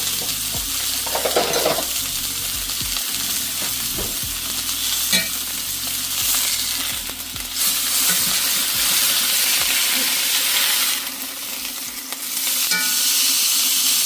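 Food sears in a hot pan topped with garlic butter: a loud, continuous sizzling hiss that swells and fades slightly over time, with occasional faint clinks, no voices.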